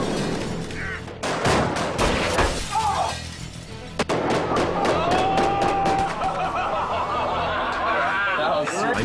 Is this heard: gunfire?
yes